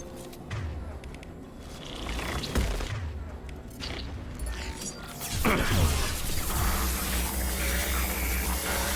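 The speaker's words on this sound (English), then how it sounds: "might use my particle rifle here" Particle rifle fire in Mass Effect 2 during a firefight, with sustained energetic bursts and crashing impacts that swell louder toward the end amid clattering game combat noise.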